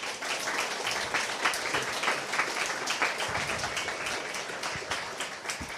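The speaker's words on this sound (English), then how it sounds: "I think we should give them a collective applause of love." A live audience breaks into sustained, dense applause for the panelists at an event on accountability for congregate care, the clapping steady and fairly loud throughout with no break.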